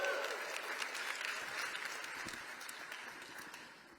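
Audience applause fills the room at a talk on engineering leadership, a dense, steady patter of many hands clapping that fades slightly over four seconds.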